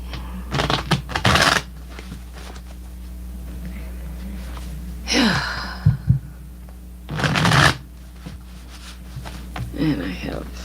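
Tarot cards are shuffled in several quick, crisp riffling bursts separated by pauses, close up and without any talking.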